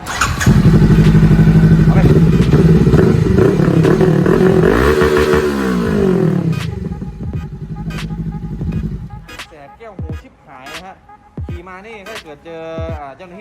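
A modified 2022 Honda CBR500R sport motorcycle with a loud aftermarket exhaust starts, roars and revs hard, then drops back to choppy, uneven throttle blips with a clattering idle.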